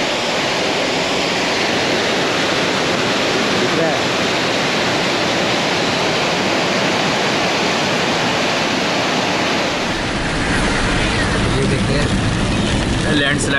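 Rainwater pours down from above onto a hill road at Patnitop hill station near Jammu, a loud, unbroken rushing torrent close by, with a voice speaking over the roar.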